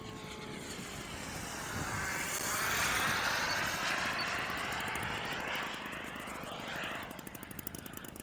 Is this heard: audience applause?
no